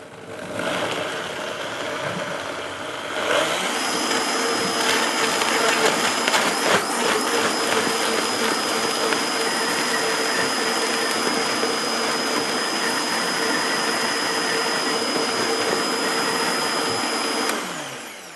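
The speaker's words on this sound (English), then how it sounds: "Now for the blend. We'll start off on a slow speed and then build up" A blender purees green ginger and spinach soup, starting at a lower whine and then ramping up to a loud steady roar that runs for a long stretch before cutting off.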